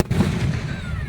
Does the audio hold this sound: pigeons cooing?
no